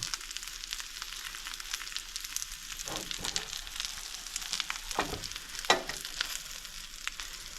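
Razor clams coated in breadcrumbs fry in a pan with a steady, close sizzle and occasional crackling pops, with no voices.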